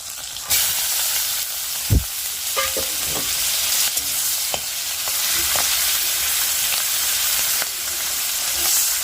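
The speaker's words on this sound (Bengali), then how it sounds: "আহ কি সুন্দর শুটকি মাছ ভাজার সেন্ট দিতে গিয়েছে" Dried fish (shutki) frying in a pan, a loud continuous sizzle and hiss close by, punctuated by a few sharp stirring clicks.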